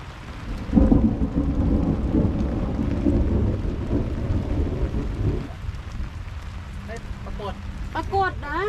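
Rain pours and thunder rumbles at a reservoir during a fishing trip, a loud, dense wash of noise with a heavy rolling rumble early on that eases later, while voices talk briefly near the end.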